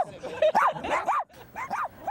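A homeless stray dog in Puerto Vallarta, Mexico yips and barks in quick, close bursts, with short whimpering rises between the barks.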